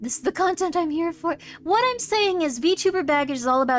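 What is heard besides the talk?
No everyday noises stand out.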